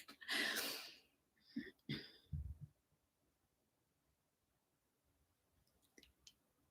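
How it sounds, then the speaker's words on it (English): A few short coughs and throat-clearing bursts come close and fairly quiet, a sharp first burst followed by two or three smaller ones, then near silence with faint rustles. "I need to like cough, clear my throat"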